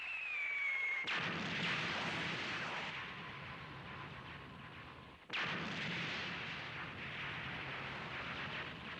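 Explosions in the animated space film Farewell to Space Battleship Yamato come as two heavy, roaring blasts, each starting sharply and then rumbling and fading over several seconds. An earlier tone cuts off at the first blast, and no voices are heard.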